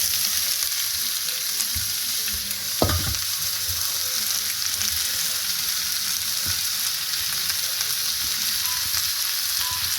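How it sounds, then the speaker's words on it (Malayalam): Sliced pork frying in a pan with onion and curry leaves gives a steady, close sizzle throughout, with one brief clatter of stirring partway in and no talking. "അതിനുശേഷം അതിനകത്തേക്ക് സ്ലൈസ് ചെയ്തിരിക്കുന്ന പോർക്ക് ആഡ് ചെയ്ത് കൊടുക്കാം."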